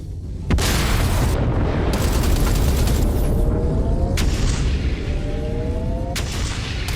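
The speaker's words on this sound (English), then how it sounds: "Several torpedoes are incoming." Torpedo explosions in the space combat video game Everspace 2, a loud continuous roar of booming blasts with sharp onsets and falling whistling tones layered over the din.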